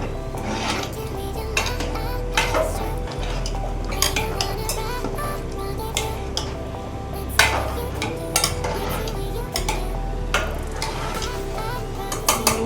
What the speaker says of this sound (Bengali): গরম মশলাটা দিয়ে দিলাম, গরম মশলাটা ভালো করে মিশিয়ে নেব